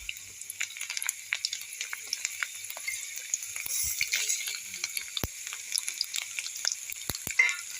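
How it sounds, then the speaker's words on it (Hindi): Garlic and panch phoron spices frying in hot oil, a steady soft sizzle dotted with sharp little crackles and pops from the seeds, fairly quiet and continuous throughout. "लहसुन भी फ्राई हो गई है और ये पचफोरन भी चटकने लगी है जिसकी आवाज़ आप लोगों को सुनाई दे रही होगी"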